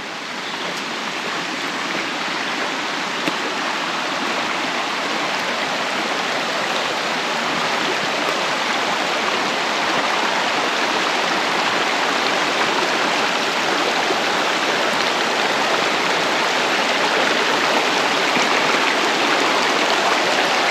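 A small waterfall at Devil's Hole pours in a steady, continuous rush of splashing water, close and full, with no break across the whole stretch.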